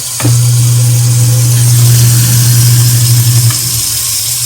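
An American Standard garbage disposal runs under a sink, a steady loud motor hum with a low drone and faint grinding rattle that holds for about three seconds before cutting off, no talk over it.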